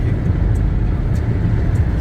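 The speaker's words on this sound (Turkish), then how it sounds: "Gaza bastım ve inmelendi." Togg electric car accelerating hard from inside the cabin, a steady low rumble of road and drivetrain noise with faint high whine, continuous and fairly loud throughout.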